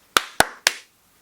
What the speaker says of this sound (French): Je trouve que la victoire de Tim mérite un applaudissement.